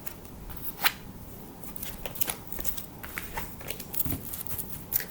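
Tarot cards are shuffled by hand, a light, irregular run of papery flicks and riffles with a few sharper snaps, close and fairly quiet, with no speech.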